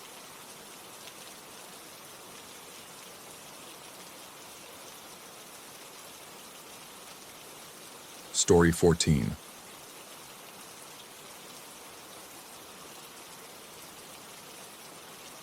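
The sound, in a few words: sound of rain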